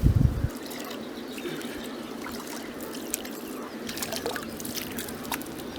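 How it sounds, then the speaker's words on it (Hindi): Water poured at home, heard as a faint, continuous trickle and splash after a brief low thump at the start, with no talk over it. "जरा पानी डाल दीजिए"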